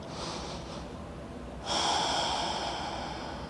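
A deep breath drawn and released during a yoga stretch, a soft airy inhale swelling into a louder, fuller exhale that continues steadily to the end, close and without talk.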